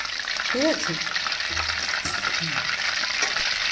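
Soybeans for a chili soybean dish fry in hot oil with a steady, close, crackling sizzle, joined by soft stirring knocks and a brief spoken word.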